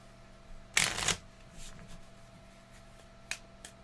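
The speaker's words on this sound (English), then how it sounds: "Fine, I'll go back to riffle shuffling." A deck of cards for the game Keyforge is riffle shuffled close by: one sharp burst of riffling and bridging, a few softer shuffles and taps after it, all quiet, with no talking.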